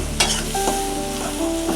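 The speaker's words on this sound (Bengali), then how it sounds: "পেঁয়াজগুলো দিয়ে একটু তেলের উপরে একটু ভেজে ভালোভাবে একটু ভেজে নেবেন।" Onions and prawns fry in oil in a pan, a close, steady sizzle marked by a sharp spatter at the start and a few scraping stirs. No speech is present.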